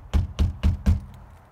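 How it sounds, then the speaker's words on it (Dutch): Four evenly spaced knocks on a door, close and firm, with a short quiet tail and no talking. "Kloppen, Piet."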